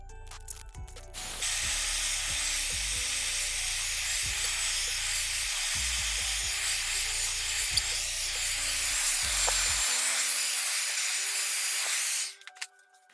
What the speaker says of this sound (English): Now what I'm basically gonna do is get a hairdryer to dry it off easily.